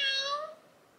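A single short electronic meow from a toy cat, high and bright, fading quickly into quiet.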